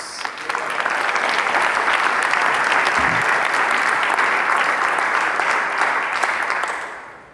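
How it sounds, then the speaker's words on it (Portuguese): A church congregation at a diocesan preaching vigil applauds the reading of scripture, a full, even burst of clapping that swells quickly and holds steady before fading out. "Pode aplaudir a palavra de Deus"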